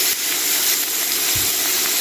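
Steady broadband sizzling and crackling of pork grilling on a Thai moo kata pan, continuous and fairly loud with no voices.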